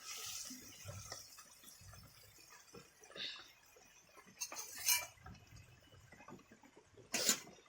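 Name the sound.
stirring milk hilsa curry in a pot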